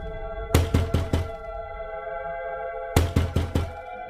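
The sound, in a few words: knocking on a house door, cartoon effect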